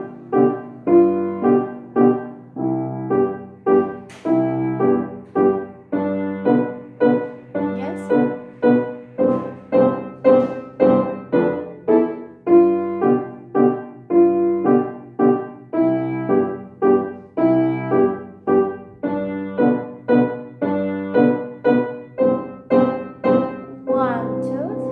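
Piano plays Hanon exercise No. 20 arranged as a waltz, a steady lilting three-beat pattern of clear repeated notes and chords running continuously at a moderate tempo, close and alone without talk.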